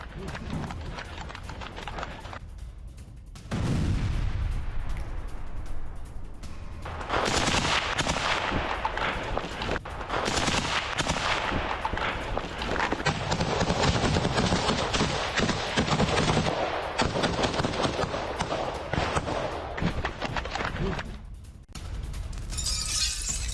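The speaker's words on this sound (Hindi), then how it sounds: "रूसी सैनिक यहां पर भीषण गोलीबारी कर रहे हैं।" Heavy battlefield gunfire from Russian soldiers in the Russia-Ukraine war, with dense, sustained machine-gun bursts and shots. It is loud and continuous for most of the stretch, with short quieter gaps near the start and end.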